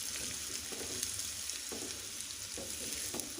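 A masala egg mixture with onion is stirred in a hot pan, giving a soft continuous sizzle with occasional spoon scrapes at roughly even intervals; close but fairly quiet, with no speech.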